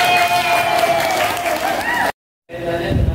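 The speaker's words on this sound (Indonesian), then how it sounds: "tepuk tangan semuanya" A classroom of students claps together in a short burst with tonal background sound, breaks off into a moment of silence, then resumes with scattered claps.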